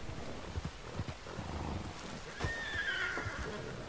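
A horse whinnies in the video game Red Dead Online, a rising, wavering neigh in the second half, preceded by soft hoof thuds and low game ambience, with no talking.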